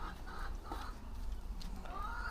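A hen clucks at the foot of a caravan on a Dutch campsite on an April morning, giving a few soft, intermittent calls over a steady low background hum with no talk.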